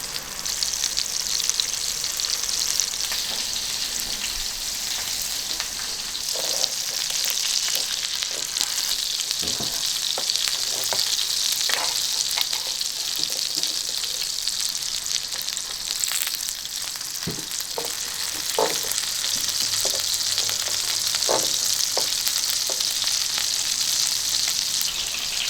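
French foie gras pan-frying on a griddle pan gives a steady, close oil sizzle that runs the whole time, with scattered small pops and spatters and no talk over it.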